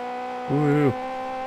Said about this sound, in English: Listen to my car scream.